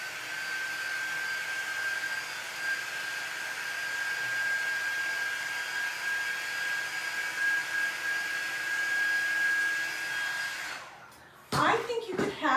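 A hair dryer blows steadily and loud for about eleven seconds while drying a faux birch bark craft piece, then cuts off abruptly, leaving a few brief knocks and handling noises.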